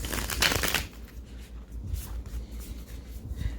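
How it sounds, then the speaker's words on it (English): Tarot cards being shuffled close up, a quick riffle followed by softer sliding and riffling of the deck. "So I'm gonna shuffle these a few times"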